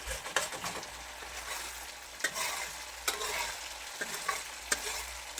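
Coconut cream cooks down into latik for biko as the oil separates. A steady soft sizzle runs throughout, broken by occasional sharp scraping stirs, with no talking.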